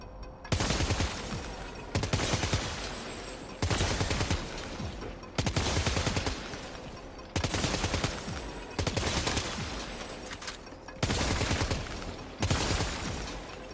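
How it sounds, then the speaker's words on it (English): In Death Stranding, an assault rifle fires at shooting dummies in about eight loud, sustained bursts of rapid automatic fire, each lasting a second or two, with brief silences between them. "equip your assault rifle, and now you can just test it out"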